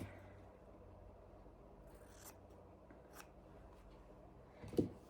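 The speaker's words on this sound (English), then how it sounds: "I'm just going to go ahead and snip that off" Scissors snip through quilting fabric during crazy-quilt block sewing, a single soft, close cut near the end after a quiet stretch.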